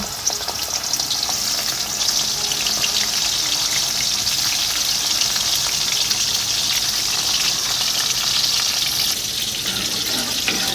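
Bitter gourd pieces frying in hot oil give a loud, steady crackling sizzle that runs unbroken from start to finish, with no voices.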